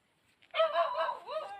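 A single short, faint dog bark or yelp outside a house, brief and somewhat distant, with no other clear sounds around it.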